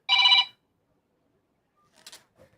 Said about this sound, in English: the phones are ringing off the hook today